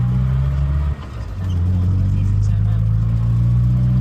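A Morris Minor car engine runs steadily under load with a low, droning hum, briefly dipping then rising again; a fine engine-bay ticking fault is hard to pick out beneath it.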